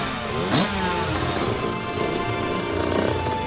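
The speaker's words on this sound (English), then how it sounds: "That's the 250 two-stroke." A 250 two-stroke dirt bike engine revving up close and loud, a steady buzzing drone with rising and falling pitch over a few seconds, no speech.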